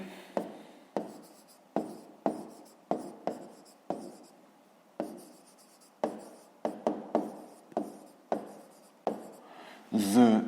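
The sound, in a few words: pen writing on paper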